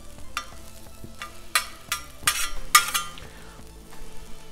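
Vegetables on a Blackstone griddle, stirred and moved around with a metal spatula, giving a soft background sizzle broken by repeated close scraping and clinking strokes.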